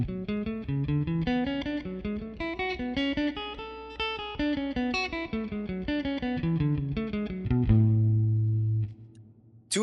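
A string-skipping finger exercise on an electric guitar plays a steady run of quick picked single notes through distortion and chorus effects, then rings out on a sustained final note before a short noise at the end.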